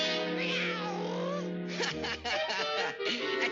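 Cat meowing in a 1939 animated cartoon, a long drawn-out wavering yowl followed by shorter agitated meows and scuffling sounds, close and fairly loud.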